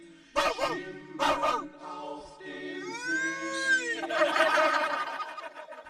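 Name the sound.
person imitating dog barking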